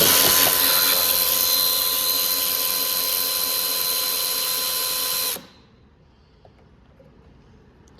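A power ratchet working a bolt on a wrecked 2015 Ford F-150 Platinum whirs loudly and steadily for about five seconds, then stops abruptly, leaving a quiet shop background.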